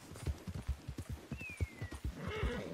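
A horse in the game Red Dead Online clip-clops at a steady, even walking rhythm, close and clear, with a brief whinny near the end.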